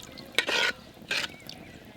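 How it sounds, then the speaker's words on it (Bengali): A spoon scrapes through rice, water and salt in a cooking pot during pulao preparation, two short gritty stirring strokes about half a second apart, close and fairly quiet, with no talking. "এবার খুব ভালো করে সব কিছু মিশিয়ে নেব একসঙ্গে।"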